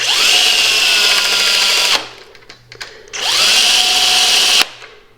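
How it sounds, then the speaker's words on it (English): A power drill drives a screw into a wooden canvas frame in two loud, close bursts of steady whining motor, each about two seconds long with a short pause and some handling clatter between them. "we're gonna drill it in."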